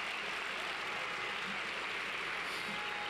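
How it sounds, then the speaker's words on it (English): An audience applauding at a 2018 summer DC public charter school graduation: dense, continuous clapping from a large crowd, steady throughout. "Can everybody in the audience just give themselves a round of applause really quickly?"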